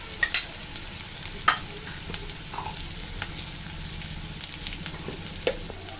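Ginger and cumin paste fry softly in oil with a low, continuous sizzle, broken by scattered clicks and scrapes of stirring.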